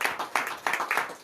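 Congregation at a morning prayer service clapping in a quick, irregular series of bursts, close and moderately loud.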